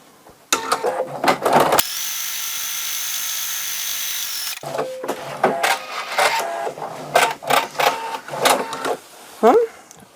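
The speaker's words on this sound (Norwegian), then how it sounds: "Når jeg skal sy den andre kanten, så passer jeg på at dette ligger flatt" A sewing machine stitches the edge of a fabric pouch, starting with short rattling bursts, then running steadily for a few seconds, then returning to quick stop-start stitching.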